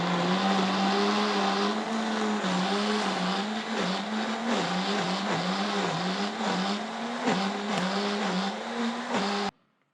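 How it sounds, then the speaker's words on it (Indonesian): A kitchen blender roars loudly and continuously, its motor pitch wobbling as the contents churn while blending curry ingredients, then cuts off abruptly at the end. "Blender dulu ya, sorry ya suaranya berisik nih."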